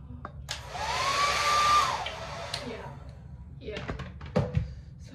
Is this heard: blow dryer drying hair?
yes